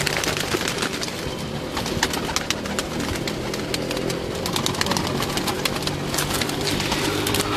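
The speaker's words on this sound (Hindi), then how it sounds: "ये देखिए तमाम कबूतर" A flock of breeder pigeons in a loft coos continuously, many soft overlapping calls layered over a busy background with occasional sharp clicks and wing flutters, fairly close.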